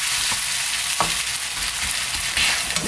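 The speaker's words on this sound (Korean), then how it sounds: "이렇게 해서 노릇노릇하게 구워주겠습니다" Korean jeon, battered pancakes, pan-frying in a frying pan, giving a steady close sizzle with a few brief scrapes and clinks of the pan across a few seconds, no voices.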